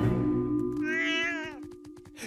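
A cartoon cat gives a single drawn-out, wavering meow over a steady background music tone, with no talking.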